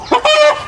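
Chicken clucking close by in a rural yard, a short burst of two or three bright, nasal clucks with no talking.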